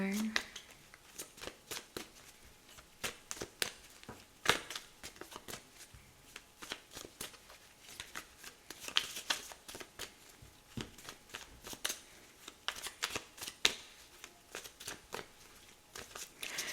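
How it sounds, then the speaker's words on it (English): Tarot cards shuffled in repeated quick riffling bursts, crisp papery flicks coming close and fairly loud, with speech heard alongside. "Tarot cards are trying to come out already. Let's get one more."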